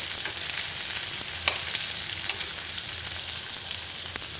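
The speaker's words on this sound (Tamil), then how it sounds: "நான் ஒரு கப் அளவுக்கு சின்ன வெங்காயம் சின்ன சின்னதாக கட் பண்ணி வச்சுருக்கேன். கொஞ்சம் கருவேப்பிலை போட்டு நல்லா வதக்கிக்கலாம்." Small onions and curry leaves sauté in hot oil in a pan, a loud, close, continuous sizzle with faint crackles and the occasional scrape of stirring, no voices.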